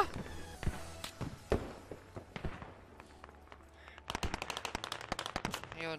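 Rapid bursts of vehicle-mounted gunfire in the military shooter game Squad, sharp cracks and rattling volleys at mid distance, with scattered single shots early and a dense rapid burst toward the end.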